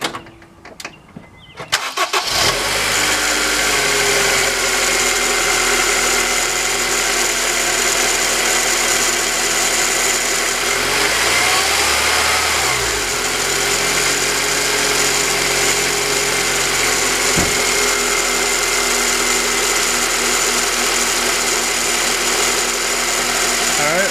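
A 2002 Honda Civic Si EP3 engine cranks and catches, then settles into a loud, steady idle close by, with a brief rev near the middle.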